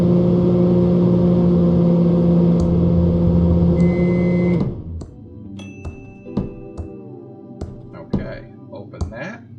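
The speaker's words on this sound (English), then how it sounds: "Alright, so we're going to use the microwave." A microwave oven in the Thimbleweed Park video game hums steadily for about four and a half seconds, then cuts off, followed by scattered clicks and small clunks.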